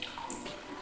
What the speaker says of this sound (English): So we are dunking the dress.